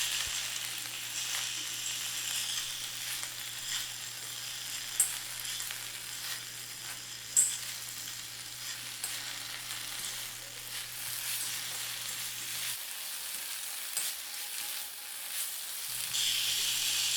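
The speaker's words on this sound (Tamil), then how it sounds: "இந்த மாதிரி கீரையை நம்ம வதக்கும்போது தீயை கொஞ்சம் மிதமாக வச்சுக்கலாம்" Small-leaf spinach (siru keerai) sautéing in a pan over a medium flame hisses in a continuous close sizzle, broken by occasional sharp stirring clicks, with no talking.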